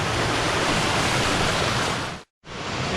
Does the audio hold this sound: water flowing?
yes